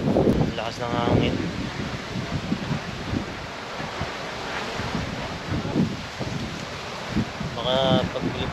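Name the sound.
strong wind at windmill farm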